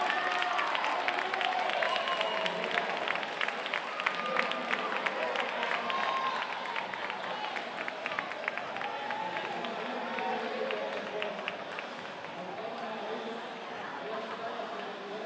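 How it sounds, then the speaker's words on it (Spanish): At a 2015 awards ceremony, a crowd applauds three national men's category winners with sustained, dense clapping that fades slightly over about fifteen seconds, as voices talk over it. "un aplauso para nuestros tres chicos de masculino nacional"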